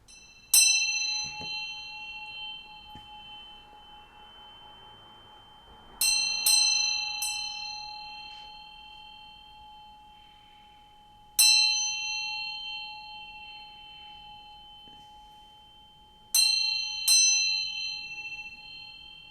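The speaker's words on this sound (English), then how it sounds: "I'm gonna ring this bell to bring some good vibes" A small bell rung by hand, four clear metallic dings spaced several seconds apart, each ringing bright and then fading slowly over a quiet room.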